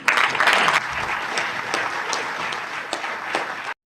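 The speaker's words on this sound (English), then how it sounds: "Light applause." Light applause from a debate audience, a short burst of scattered clapping that peaks at the start and then thins out before stopping abruptly.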